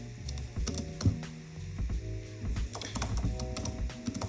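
Text being typed on a computer keyboard, with rapid, uneven clusters of close key clicks and taps and brief pauses between bursts, with no talking.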